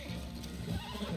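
A horse whinnies in Red Dead Redemption Online, a short neigh close by over a steady game background, with no talk.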